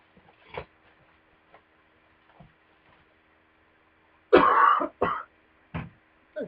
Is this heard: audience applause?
no